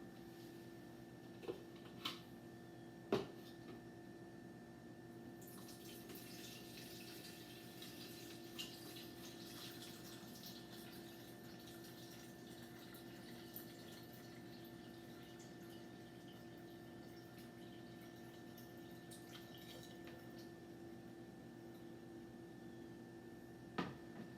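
Lemonade poured from a bowl through a strainer into a pitcher gives a steady, continuous liquid stream lasting over twenty seconds, with a few faint clinks, against a constant background hum.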